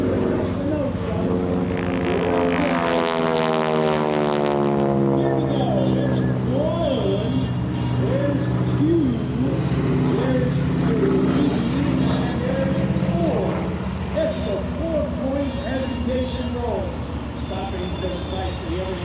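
Aerobatic propeller airplane diving at the 2024 Westmoreland County Airshow, a steady droning engine roar that rises in pitch and then settles, heard at a distance under continuous announcer commentary.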